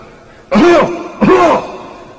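A person's voice imitates two coughs, short raspy bursts with a brief pause between them, close and fairly loud.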